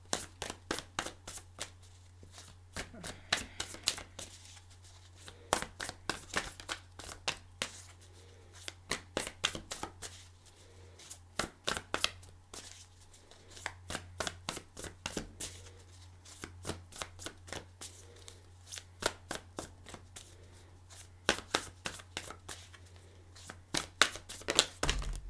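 A stiff new tarot deck is shuffled over and over, giving crisp riffling bursts in uneven rhythm. The shuffling is close and quiet over a low steady hum, with no talking.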